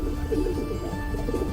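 A pigeon coos close by in a soft, low, throaty, rolling burble that repeats steadily through the short moment, alone and fairly loud.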